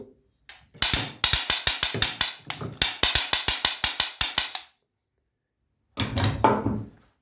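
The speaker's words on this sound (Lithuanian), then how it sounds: "Kleketas su plaktuku." Rapid series of sharp clacks from a wooden church clapper struck with a hammer, in quick bursts, loud and close, pausing briefly, then another short rattling burst after a silence.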